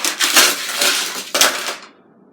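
Crunching metallic crashes from a NASCAR racing video game at Talladega, two loud harsh impacts in quick succession with a scraping clatter that cuts off into near silence.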